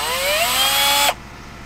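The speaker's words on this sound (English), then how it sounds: "Molly, what do you think of the drill?" A power drill runs loud and close with a steady, rising whine for about a second, then cuts off abruptly, leaving only quiet background hum.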